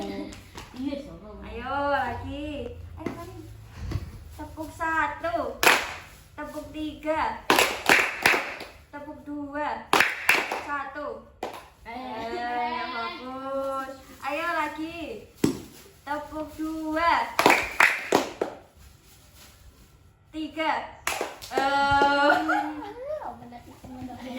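Children in a classroom clap in short rhythmic bursts on cue during a maths lesson, sharp broadband claps alternating with a voice and children's chanting, the group answering each call with quick sets of claps.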